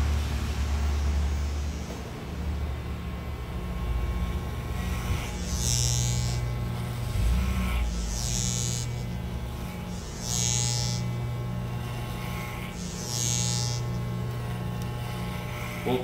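An electric hair clipper fitted with a number 6 comb guard buzzes steadily and close while cutting tightly curled hair, its tone shifting in repeated passes, with no talking.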